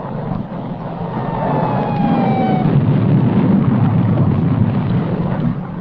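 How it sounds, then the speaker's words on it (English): A conventional high-explosive charge from a nuclear weapon safety test detonates as a deep, sustained rumbling roar that swells and rolls on for several seconds at a steady loud level, with no talk. "What has exploded is the ordinary explosive, which is an essential part of nuclear weapons."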